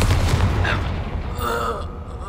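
A Confringo blasting spell goes off in the Hogwarts Legacy video game, a short deep boom that rumbles out and fades within a couple of seconds.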